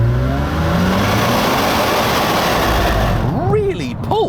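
A 2006 Vauxhall Vectra V6 Turbo accelerates hard in manual mode, a loud steady engine roar heard from inside the car rising in pitch, with a whistling sweep near the end.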